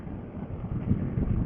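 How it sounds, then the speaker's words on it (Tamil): Strong wind buffets the microphone outdoors on a ride, making a low, rough rumbling roar that swells and gusts louder in the second half, with no speech over it. "காற்று பயங்கரம்."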